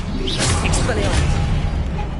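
The Expelliarmus disarming spell cast in Hogwarts Legacy, a short, bright whooshing burst with a swish at its start, close and loud, with a voice partly over it.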